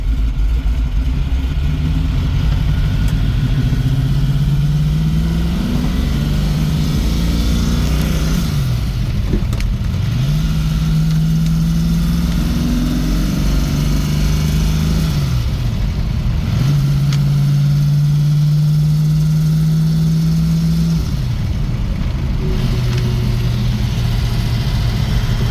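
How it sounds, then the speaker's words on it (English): A rattly car engine runs loud and close, idling roughly while its pitch rises and falls in several repeated revs, with a steady mechanical clatter underneath and no talking. "Don't know if you can hear that, but it is a rattly sounding engine."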